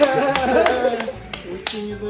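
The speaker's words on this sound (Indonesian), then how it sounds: "Tepuk tangan dong buat Bang Yogi." A handful of people clap hands in a loose, uneven burst of separate sharp claps, close by and fairly loud, with talk mixed in alongside them.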